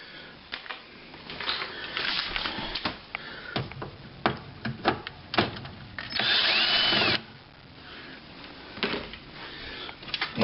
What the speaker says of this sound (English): I highly recommend you using a cordless drill with a Phillips bit on it